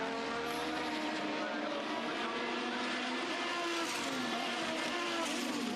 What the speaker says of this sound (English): Stefan Johansson takes advantage of the backmarkers and overtakes Elio De Angelis around the outside in Tosa Corner.